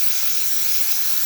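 Steam wand on a Jura automatic coffee machine sends out a steady, loud, unbroken hiss of steam that fills the whole clip with no talk.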